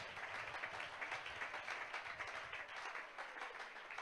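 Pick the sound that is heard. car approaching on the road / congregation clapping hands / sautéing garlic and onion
congregation clapping hands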